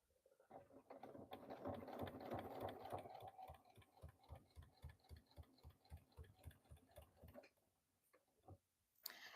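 A sewing machine top stitching a denim corset dress, running in a steady rapid mechanical rhythm of close needle thumps after a brief whirring start, then slowing and pausing, with a single sharp knock at the very end.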